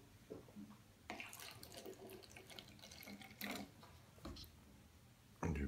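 Water poured into a mixing container to prepare plaster of Paris for a special-effects makeup prosthesis, heard as a few short splashing bursts and a louder final gush, close by with no talking.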